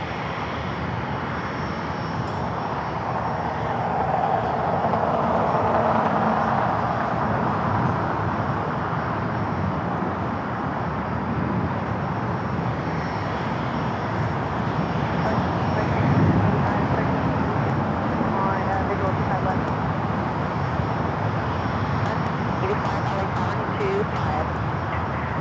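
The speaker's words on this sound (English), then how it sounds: "The Delta 767 taking off on the north side as we wait for that Viva special livery." A Delta Boeing 767 takes off at LAX, a steady broadband jet roar rising and holding across the runway, with a voice talking over it throughout.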